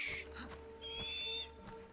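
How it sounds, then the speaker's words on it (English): Soft owl-like hooting and bird calls in the background, a few faint tonal notes over a low steady hum. "Oh, shut up, birds."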